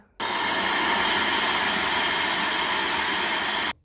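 A Kenmore Progressive DU2001 dual-motor vacuum cleaner runs steadily at close range, giving a loud, even roar and high whine that start abruptly, hold constant for a few seconds, then cut off.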